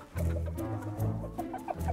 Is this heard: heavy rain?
no